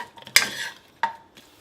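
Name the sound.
stirring pandan, cinnamon, lemongrass and curry leaves in pot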